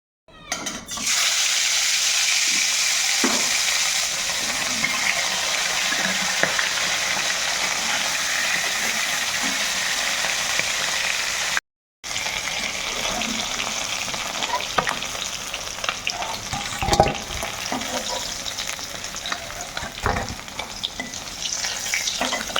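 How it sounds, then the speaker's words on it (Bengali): Fish frying in hot mustard oil in a wok, a loud sustained sizzle that carries on throughout with occasional clinks and stirring noises and one brief break. "তো এখন মাছ ভাজার জন্য দিয়ে দেব সরিষার তেল"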